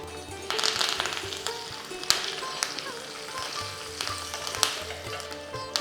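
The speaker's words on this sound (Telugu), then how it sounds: "ఇప్పుడు నేను దీంట్లో 1/2 టీ స్పూన్ ఆవాలు, 1/2 టీ స్పూన్ జీలకర్ర, స్టవ్ ఆఫ్ చేసేసి ఎండుమిర్చి 2, కొద్దిగా ఇంగువ, కొంచెం కరివేపాకు" Mustard seeds, cumin, dried red chillies, asafoetida and curry leaves sizzle in hot oil for a chutney tempering. Close, continuous crackling carries sharp pops throughout.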